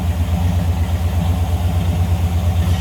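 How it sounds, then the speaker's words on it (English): A V8 engine in a 1967 Chevrolet C10 pickup idles close by, a steady, deep, loping rumble with an even pulse and no other sounds. "Nice sounding V8 underneath the hood."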